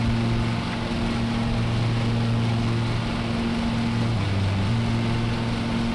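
Lawn mower engine in the Lawn Mowing Simulator video game, a steady loud droning hum with constant tone that dips briefly in pitch near the end, running alone throughout.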